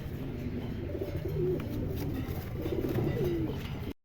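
Pigeons coo softly nearby, low repeated throaty calls rising and falling over a quiet background.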